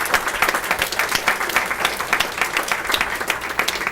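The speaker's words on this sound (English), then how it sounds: "I would like to have a round of applause right now for the people who donate" Applause from a breakfast club audience honoring donors, a dense, steady wash of many hands clapping close by for several seconds with no voices standing out.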